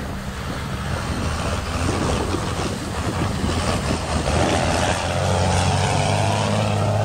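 IFA W50 truck fitted with a roughly 200-horsepower intercooled Mercedes diesel rumbles loudly and continuously on a first test drive, a broad steady engine roar with wind noise.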